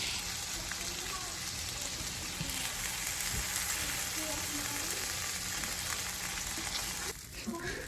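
Canned mushrooms frying in a pan for Salisbury steak, a soft, continuous sizzle with faint stirring, fairly quiet and even, easing off near the end.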